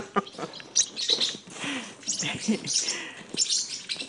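Turquoise male parrotlet chirping close by in short, bright tweets and squeaky calls scattered irregularly, mixed with a woman's speech and laughter.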